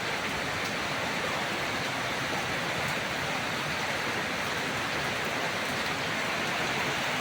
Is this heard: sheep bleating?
no